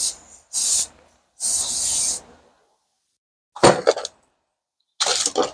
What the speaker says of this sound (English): let's spray some brake cleaner on it here.